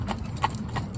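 A cob being ridden clip-clops along a road, three distinct hoof strikes spaced evenly over about a second, close and clear over a low background rumble.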